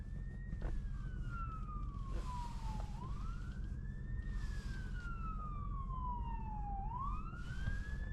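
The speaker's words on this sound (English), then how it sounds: "Here comes a fire truck." A Rural Metro fire truck approaches with its siren sweeping in long, slow rising and falling wails over a steady, rumbling road and engine noise, moderately distant and growing clearer.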